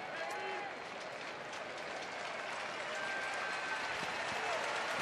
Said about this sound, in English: Nice applause for Matt Harrison